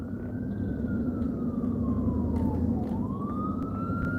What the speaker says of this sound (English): All you're going to hear is sirens in New York.